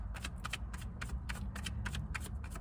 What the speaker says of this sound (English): Get an actual shuffle out of this one.